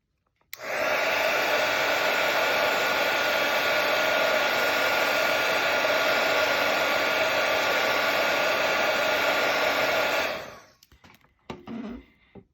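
Heat dryer drying paint on cardstock: a continuous loud whooshing blow running for about ten seconds, then cutting off, leaving faint handling sounds.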